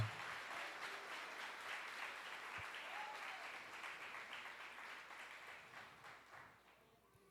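A congregation applauds during a Sunday church service, a soft, even wash of clapping heard from a distance that thins and fades toward the end, with no one speaking over it.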